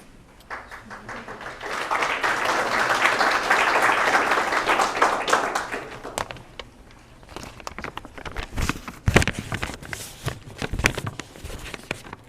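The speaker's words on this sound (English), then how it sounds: "Another round of applause for him." A crowd at a school graduation ceremony applauds for several seconds, the clapping swelling then fading into scattered claps, shuffling and footsteps.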